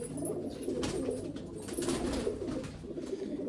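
Golden pigeons coo softly and steadily inside a loft, a continuous layered murmur of several birds close by, with no talk.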